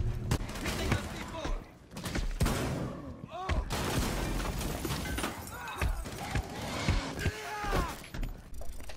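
Gunfire crackles in Rainbow Six Siege, with rapid loud shots and impacts mixed under excited players talking over each other.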